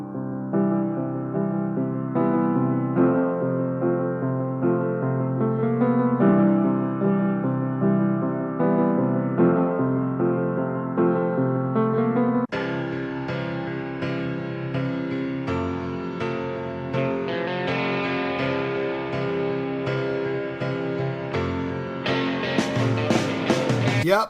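Two song intros played one after the other, piano-led and tonal with steady chords, switching partway through to a brighter, fuller arrangement.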